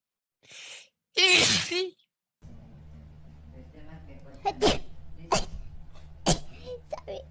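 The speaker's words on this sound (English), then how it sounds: "Oh no, I gotta sneeze." A single loud sneeze from a vtuber, preceded by a soft breathy intake and followed by quieter vocal sounds over a low background hum.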